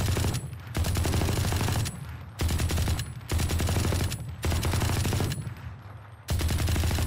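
Bursts of automatic fire from the Ares machine gun in Valorant ring out loud and close, with long sustained volleys separated by brief pauses over roughly seven seconds and no talking.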